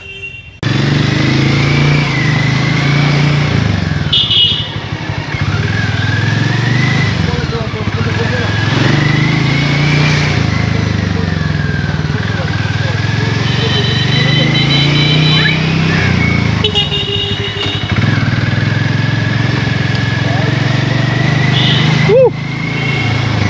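Hero Mavrick 440 motorcycle engine on a test ride, a steady loud drone with rising and falling pitch as the rider shifts through gears, continuous for over twenty seconds with wind rush and a brief throttle dip near the start.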